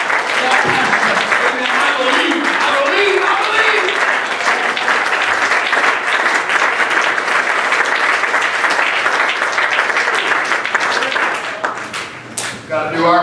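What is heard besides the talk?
congregation applauding and clapping hands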